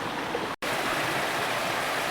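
Avery Creek rushing beside a footbridge on a wooded trail to a waterfall in western North Carolina, a steady broadband wash of flowing water, close and constant, with one momentary dropout near the start.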